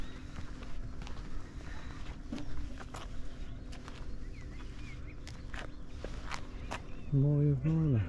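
Footsteps on the deck as someone steps off the sailing boat Molly of Mylor at its first launch: a few sparse, separate thuds and knocks over steady outdoor background noise, then a brief tonal sound near the end.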